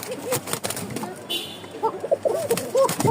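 A male racer pigeon coos in soft, repeated low phrases close by, with a voice talking over parts of it.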